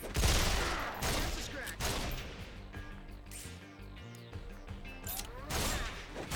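Enemy gunfire in the video game Resonance of Fate, a series of loud, sharp shots and bursts with metallic clatter, spaced across the moment alongside game music and effects.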